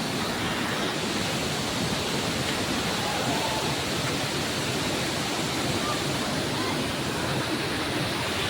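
Daranak Falls in Tanay, Rizal, roaring steadily as a dense, even wash of falling water that fills the whole scene without letting up.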